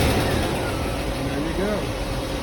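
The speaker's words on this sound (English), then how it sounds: "Give it a couple kicks with the accelerator." A car engine is blipped with the accelerator from a cold start with the choke on, giving a continuous loud broadband rumble close by while someone talks over it.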